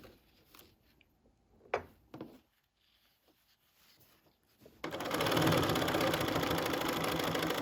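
A sewing machine stitching a tote bag gusset starts up after a few quiet handling sounds and then runs at a steady, close whir that continues to the end.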